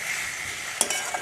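Potatoes stir-fried with spices in a pan for aloo dum, giving a steady close sizzle with a few brief scrapes of the spatula near the end.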